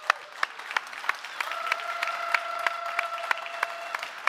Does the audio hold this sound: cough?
no